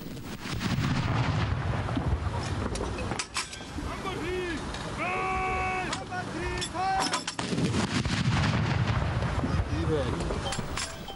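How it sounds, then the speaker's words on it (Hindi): Cannon salute fired for Independence Day, heavy booming reports echoing over crowd and broadcast narration, with voices talking across much of the stretch. "वफाकी और सूबाई दारुल हुकूमतों में तोपों की सलामी भी दी गई।"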